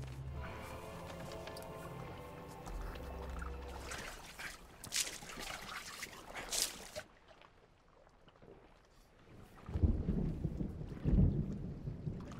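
A thunderstorm with rain lashes a small lifeboat at sea in a film scene. Deep thunder rolls and rumbles over steady rain, with a tonal drone at first and heavy booms toward the end.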